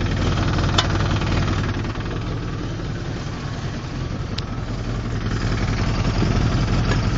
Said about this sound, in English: I got the Chevrolet running warm up